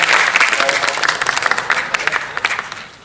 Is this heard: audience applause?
yes